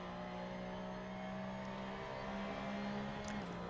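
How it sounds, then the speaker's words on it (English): A Porsche race car engine in the racing game Assetto Corsa hums at a steady, sustained pitch, faint and distant, with a slight shift in tone near the end. "The Porsches all sound quite nice."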